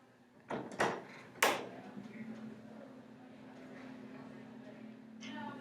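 A door opening in a doctor's consultation room: a few sharp clunks and a rattle close by in the first second and a half, then a steady low hum with faint shuffling.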